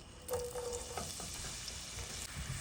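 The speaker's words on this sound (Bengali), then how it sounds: "পেঁয়াজটা আমি বাদামি কালার করে ভেজে নেব" Onions fry in soybean oil for a magur fish dish, producing a faint, even sizzle with light stirring scrapes, heard alone without talk.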